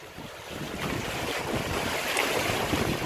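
Water surging and washing in along a shore by a quarry cliff in New Zealand, a steady rushing wash with wind buffeting the microphone, rising slightly toward the end.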